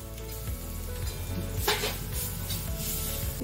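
Garlic sizzling in hot oil with onion and gram flour for a bean curry, a steady close frying hiss with a few soft stirring knocks and scrapes against the pan.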